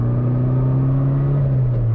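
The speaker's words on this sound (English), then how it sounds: "The exhaust on this car is really quiet." A Mitsubishi Evo 9 is driven with its exhaust giving a steady, low, droning hum that rises slightly in pitch, close and constant throughout, with no voices.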